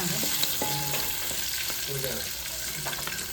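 Onions sizzling as they fry in a pan on a home stove, a continuous close crackling hiss with a few scraping stirs and faint clinks over it.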